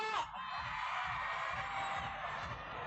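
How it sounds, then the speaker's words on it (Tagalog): A large crowd at a political grand proclamation rally cheers, whoops and shouts together after a band's set, a loud, dense and continuous roar with individual yells rising out of it. "Magingay ang mga walang jowa!"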